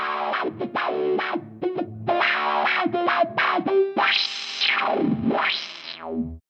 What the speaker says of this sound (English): I turned the distortion on.